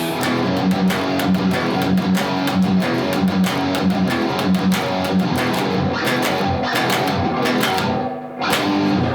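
A groovy electric guitar riff plays in a repeating rhythmic pattern, loud and steady, with a brief drop near the end before the riff resumes.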